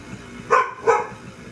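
Dog gives two short barks close by at a home stand mixer being used for pizza dough, over a low background hum.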